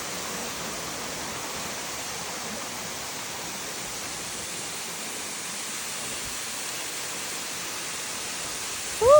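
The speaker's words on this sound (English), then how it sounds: "so I can show you guys this beautiful, beautiful waterfall in mt.Carmel" Waterfall at Mt. Carmel in St. Andrew, Grenada, a steady broadband rush of falling water that holds even and unbroken throughout, ending in a short burst of noise.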